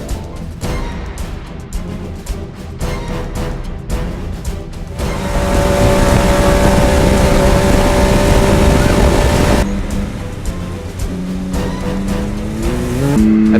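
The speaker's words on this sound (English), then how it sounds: "The team would not need to pit the CanAm at Pit 5, as Dan and Garrick would keep pace" A CanAm off-road race car in the Silver State 300 desert race roars loudly and continuously, its engine rising to a sustained high-revving howl and then easing off.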